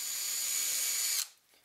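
A power drill bores into a pipe while making a ball catch latch, a steady high whining grind for just over a second that cuts off sharply, with no talking.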